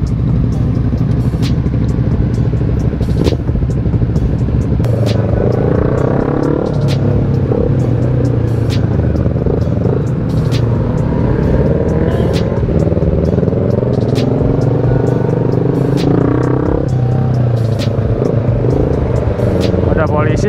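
Motorcycle riding on a road on a hot Saturday afternoon, a steady close engine rumble that rises and falls, with a rider talking over it throughout.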